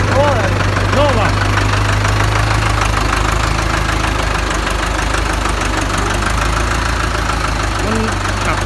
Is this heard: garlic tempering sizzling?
no